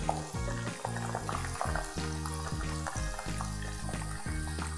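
Prawns frying in oil for a prawn roast while being stirred apart, a continuous bubbling sizzle over steady background music.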